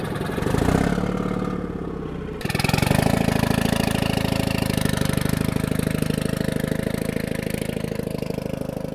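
A BM2 tractor engine with its exhaust running under the tractor idles steadily and close, a loud continuous mechanical chug that steps up slightly after a couple of seconds.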